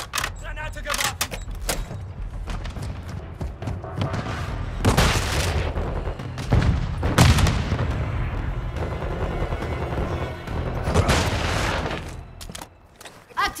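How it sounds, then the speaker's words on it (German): Gunfire and explosions from the Call of Duty: Modern Warfare 2 battlefield, with a grenade blast among them: dense, loud bursts of shots and booms, clustered in waves, while a voice speaks over the combat. "Granate geworfen."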